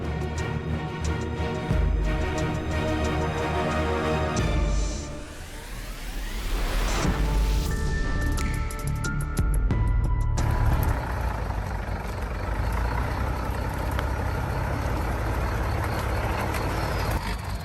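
An overloaded truck hauling acacia logs on a deadly mountain road with muddy hairpin turns, its heavy engine droning loudly and steadily throughout, with rumbling strain and a brief surge partway through.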